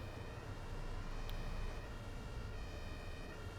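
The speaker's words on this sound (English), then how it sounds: "What's the story with all the ambulances?" An ambulance siren wails steadily inside a busy Berlin rush-hour scene in the OMSI 2 bus simulator video game, blending into a constant loud wash of traffic and engine noise.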